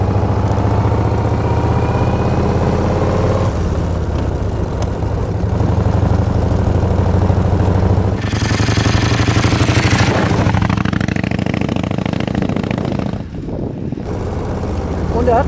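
A 1934 Morgan Threewheeler Supersports, an original-condition car, runs with a loud, rough, steady engine drone that shifts in pitch partway through as it revs and changes pace, with no voices over it.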